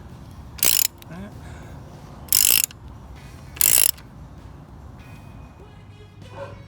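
A ratchet tightens engine guard bolts on a 2016 Moto Guzzi V7 II motorcycle, making three short, sharp, close clicking bursts spaced about a second apart over a low background hum.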